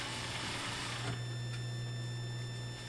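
A sewing machine stitches fabric lining with a steady motor hum and rapid needle clatter, running continuously and close by without any voices.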